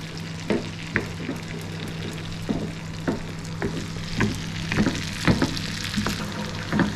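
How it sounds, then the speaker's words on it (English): Onions and garlic sauté in a pan, frying steadily with a constant sizzle and regular scraping strokes as they are stirred, close and alone. "we're just going to saute this so it gets nice"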